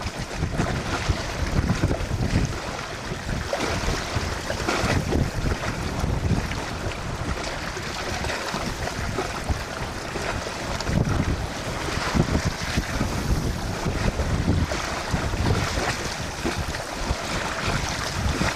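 A sailboat moves through the night under trimmed sails on open water, with steady wind rushing and buffeting the microphone over a constant wash of water along the hull.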